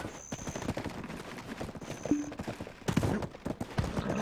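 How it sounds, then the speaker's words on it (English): Horse hooves clip-clop in the video game Black Desert, a quick rhythmic patter of hoofbeats mixed with other busy game sounds and occasional short tones, at moderate loudness with no voices. "We'll grab our horse and head down there."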